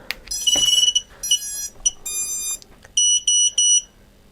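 A series of high electronic beeps and short melodic tones from a Diatone GT2 200 drone's electronic speed controllers on startup, some in quick triplets, sounding close and clear against a quiet background.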